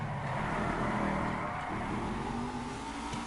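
A car engine in GTA V revs steadily at a raw, sustained pitch, moderately loud and continuous, with no talking over it.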